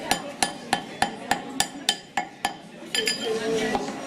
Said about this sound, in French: Je suis en train de la taper pour l'agrandir.